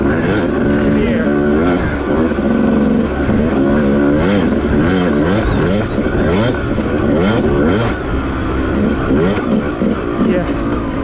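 A Yamaha YZ250 two-stroke dirt bike revs and accelerates hard along a wooded off-road cycle trail, its engine loud and close throughout with rising and falling pitch sweeps as the rider works the throttle.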